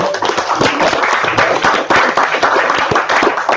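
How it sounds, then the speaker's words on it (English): A lecture audience gives a round of applause, lively close clapping from many hands with sharp individual claps standing out, sustained throughout. "let's do a round of applause right now"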